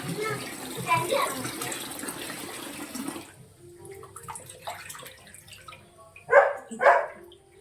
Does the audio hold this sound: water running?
yes